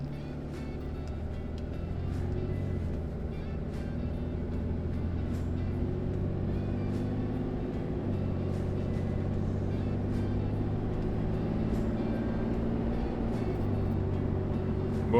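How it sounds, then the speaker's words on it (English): A Ram 2500 pickup truck with an upgraded valve body accelerating hard from inside the cab, a loud steady engine drone that rises and drops as it shifts through several gears. "how crisp each shift is. So less talking,"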